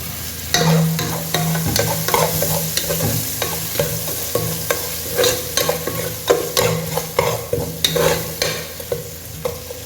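Green chilies sizzle in hot oil in a pan while being stirred, with steady frying hiss and repeated scraping stir strokes heard close, no talking.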